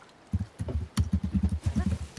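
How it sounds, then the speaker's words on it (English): Horse hooves clip-clop in a steady quick rhythm in The Legend of Zelda: Breath of the Wild, close and fairly loud, with a brief faint sound partway through. "Peter, the horse is here."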